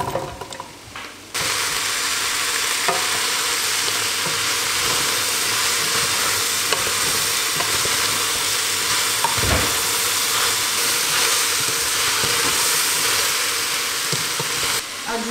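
Diced potatoes fry and sizzle loudly in a pan of cooked vegetables, a dense continuous hiss broken by occasional scraping stirs, close and steady for the whole stretch without talk.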